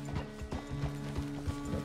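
Horse hooves clip-clop in a steady walking rhythm in the video game Red Dead Redemption 2, moderately close and faint, with a low mechanical hum underneath and no voices.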